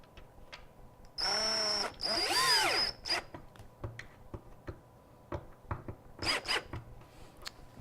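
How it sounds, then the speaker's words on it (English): A power drill drives screws into a steel locker panel during locker assembly. It gives two whining bursts, a longer one first and then a short one, with light handling clatter between. "go ahead and screw it into place"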